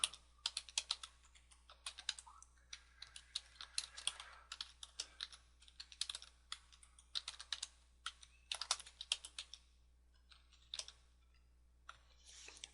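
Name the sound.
typing on a computer keyboard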